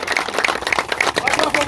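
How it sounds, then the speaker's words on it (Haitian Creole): A crowd gives steady rhythmic clapping in honour of canal workers, the claps falling in an even beat under continuous talking voices. "nous voulons nous battre un gros bravo pour tout le monde qui travaille dans le canal là"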